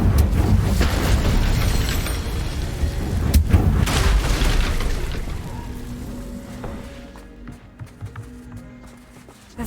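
Incendio fire spell blast in Hogwarts Legacy, a loud booming burst with a sharp crack near the middle, then fading rumble and scattered game sounds.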